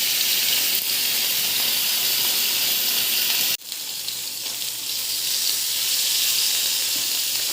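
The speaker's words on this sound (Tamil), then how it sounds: "எடுத்து வச்ச கருவாடை வறுக்க போகிறோம்" Dry fish fries in a pan with a loud, steady hiss and sizzle close by. Partway through there is a brief dip and the frying then carries on evenly, with no voices.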